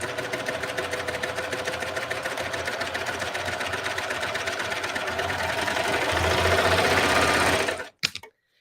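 A serger sewing machine gathers fabric with its differential feed at the top setting and a stitch length of 4, running continuously and loudly at a rapid, even rhythmic chatter for about eight seconds before stopping abruptly, with a brief clunk after.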